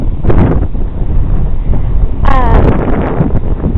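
Gusty wind rushes and buffets the microphone in a steady low roar, with a brief higher whistling sweep partway through.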